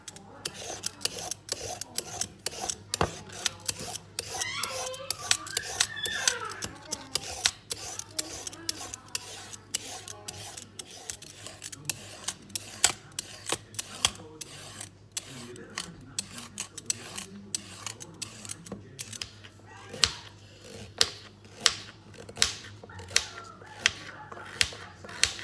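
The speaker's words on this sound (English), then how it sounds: "So I'm just cutting off the top and the bottom of both the carrot and the parsnip, and then I'm going to peel." A carrot and a parsnip have their ends cut off and are then peeled: a steady run of close, crisp scraping strokes, with sharper clicks coming more sparsely toward the end.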